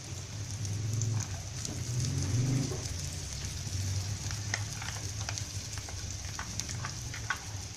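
Onion and garlic frying in a pan for corned beef, a steady close sizzle with a few stirring scrapes and taps, no talking.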